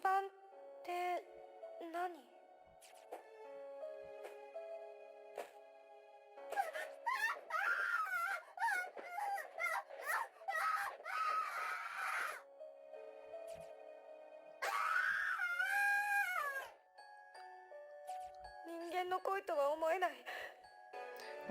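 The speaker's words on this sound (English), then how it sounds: "I've never heard screaming like this before. It's pure primal terror cutting through the air" A boy screams in terror in the Corpse Party horror game, a run of long wailing, wavering shrieks broken by short pauses and mixed with tonal chimes, loud and near, with talking in between.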